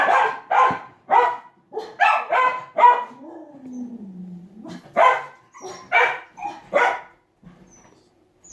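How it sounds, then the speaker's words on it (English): Dogs bark in sharp bursts, several quick barks, a pause with a whining growl, then more barking that trails into faint yips. "my dogs are going crazy. I think they heard something outside."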